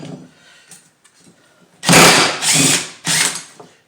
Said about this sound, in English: Now we're gonna remove the spindle